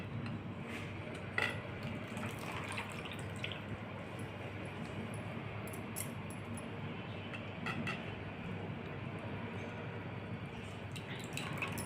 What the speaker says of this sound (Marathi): पाण्याने धुवून घेत आहोत।